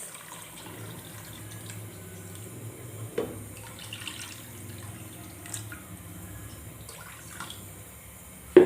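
Water is poured into a pan of simmering beef kofta, giving a soft, steady liquid pour with a few small splashes and clinks throughout.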